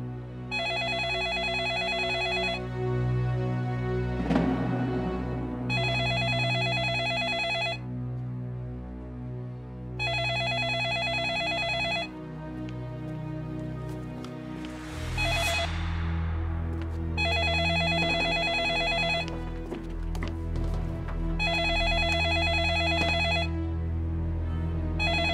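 A telephone rings in repeated electronic bursts of about two seconds each, evenly spaced, loud and close over low background music and rumble, with no one talking.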